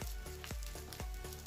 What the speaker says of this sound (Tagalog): Pero ako ipiprito ko, mas masarap prito eh.